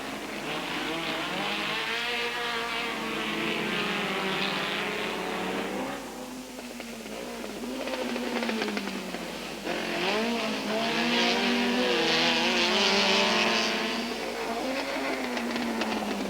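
Vintage Cooper and BMW race cars at the 1990 Grand Prix de l'Age d'Or roar through a tight chicane, engines revving and dropping in a continuous loud wail with squealing tires as they brake and accelerate nearby.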